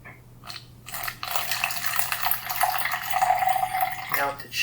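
Water poured into a container for a chemistry clock reaction, a steady close splashing pour lasting a few seconds after a couple of light clinks.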